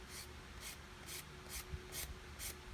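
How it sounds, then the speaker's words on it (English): Sandpaper rubs across the ends of a plastic 1/72 Airfix Vulcan kit part, six short rasping strokes in a steady rhythm, close and clear with no talking. "and then the ends of this need to be sanded"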